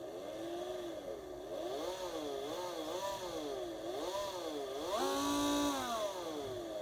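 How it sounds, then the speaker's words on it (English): A small motor on a homemade hot plate magnetic stirrer whirs continuously, its pitch wavering up and down as the speed changes, then climbing higher toward the end, moderately loud with no speech. "The motor runs at 20 kilohertz to prevent that annoying loud whine."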